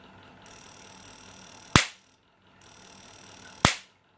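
A homemade transformer fish stunner running on pure AC fires two loud, sharp electric cracks about two seconds apart, each preceded by a steady buzzing hum, with no talk.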